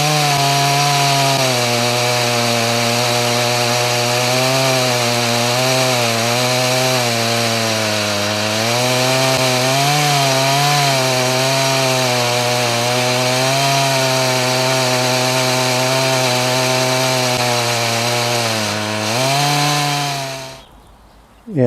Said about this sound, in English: you can hear that zinging sound of the chain on the gear, on the sprocket